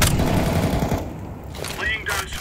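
AK rifles fire in a video game, a burst of rapid, close automatic gunfire that breaks off partway, then a few more shots, with a player talking over it.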